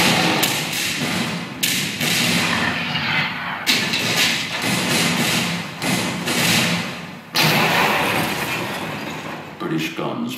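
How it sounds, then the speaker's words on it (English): American cannon open a night barrage on British positions, firing heavy thudding booms in quick succession that blend into a dense, rumbling wall of fire. "And on the night of March 4th, under a full moon, Washington opens fire on British positions."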